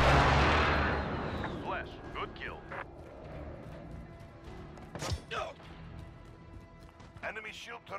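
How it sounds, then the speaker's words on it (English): Heavy precision airstrike explosions in Call of Duty Modern Warfare open with a loud, rumbling blast that slowly fades, followed by scattered gunfire and smaller impacts under radio voice chatter. "Precision airstrike ready. Actual, send the strike. Direct 3, good copy. Strike inbound."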